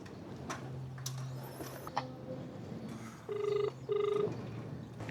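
A phone call to a customer rings out in two short electronic ring bursts near the end, over a quiet room with faint ticking and a low hum.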